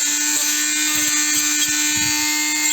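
A high-pitched Dremel rotary tool whines loudly and continuously while cutting metal on Helibar handlebar risers for a Goldwing motorcycle, with slight changes in pitch as the blade bites.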